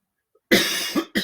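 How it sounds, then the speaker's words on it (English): A sudden loud cough close by, followed a moment later by a shorter second cough, with silence before it. "don't know where that cough came from today"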